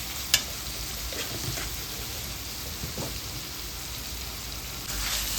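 Capsicum sautéing in a pan with a little sugar for a bitter gourd dolma dish, a soft continuous sizzle with a faint click near the start and light stirring scrapes, close but quiet.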